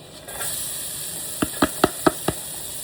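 Shallot and garlic sizzle in a pan for chicken Marsala, a steady hiss from the start, punctuated near the end by five quick, evenly spaced knocks of a utensil against the pan.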